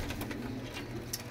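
Soft pigeon cooing in short low murmurs, fairly close, over a steady background hum with a faint higher chirp near the end.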